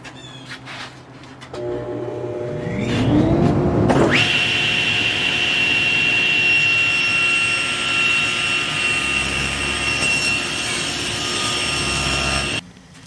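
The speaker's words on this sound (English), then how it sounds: "when I put the primary bevel using my SawStop on this" A SawStop table saw cuts a bevel on a wooden keepsake box. The motor winds up with a rising pitch, then holds a steady, loud whine for about eight seconds before cutting off abruptly.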